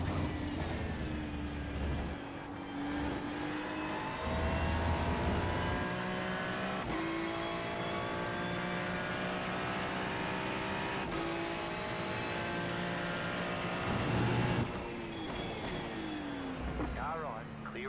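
GT3 race car engine in a racing game at the Red Bull Ring, loud and close, rising and falling through gear changes with sharp shifts, other cars nearby and a voice talking over it.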